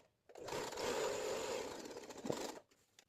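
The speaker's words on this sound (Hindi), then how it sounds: "इस तरह से हमें सिलाई लगाकर अटैच कर लेते हैं तीनों लाइनों को।" A sewing machine runs in one continuous burst of about two seconds, stitching fabric strips together for a beginner's scrap rug and quilt; the steady mechanical chatter is soft and close, with no voices.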